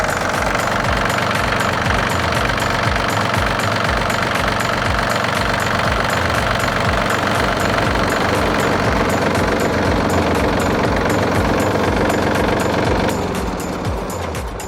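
A Yanmar AF-224 Japanese mini tractor's three-cylinder 1.4-litre Yanmar diesel engine runs steadily and loudly up close, with a rough, rapid knocking chug throughout.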